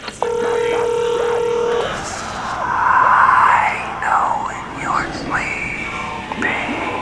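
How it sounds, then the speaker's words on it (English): A phone interaction in the Shi No Numa map of Call of Duty Zombies gives a run of electronic keypad tones. Eerie whispers and groaning voice sounds of a creepy message follow. "you need to simply interact with a phone 3 times, where it will leave you a creepy message"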